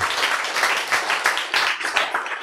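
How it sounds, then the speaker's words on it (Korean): Dense crowd applause, a steady wash of many hands clapping for a couple of seconds with no voices over it. "박수."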